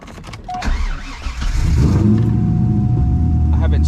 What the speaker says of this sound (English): I haven't started the car